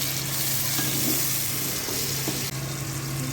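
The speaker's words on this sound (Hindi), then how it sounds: "इसके बाद हम डालेंगे इसमें टमाटर को भी हम 2 से 3 मिनट तक फ्राई करेंगे।" Tomatoes and onions frying in a pan for bhindi masala, a loud steady sizzle with faint stirring scrapes and a low hum underneath, continuous and close with no talking.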